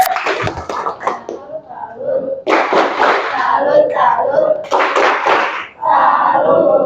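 A classroom of students claps and chants a 'tepuk salut' cheer, loud and close, in two or three rhythmic bursts of clapping mixed with shouted voices.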